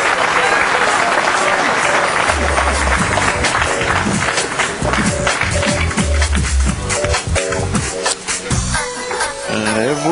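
A pool hall crowd at a professional billiards match claps and cheers loudly and continuously, with scattered whoops and shouts mixed into the dense applause.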